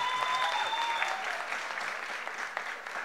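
An audience applauds for a vallenato singer at a music show, a steady wash of clapping for about three seconds, with a faint sustained tone fading out early on.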